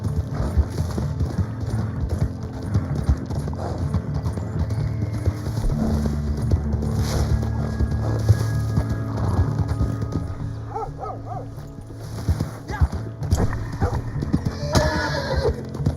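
Hooves clip-clop steadily on the ground with occasional neighing, a horse moving nearby amid outdoor background noise.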